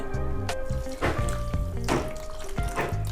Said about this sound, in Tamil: ரவையை போட்டுட்டு தண்ணி ஊற்றிக்குங்க